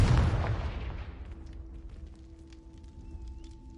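A Confringo fire spell explodes in Hogwarts Legacy, one loud boom that fades over a few seconds into a low ringing tail and quiet ambience.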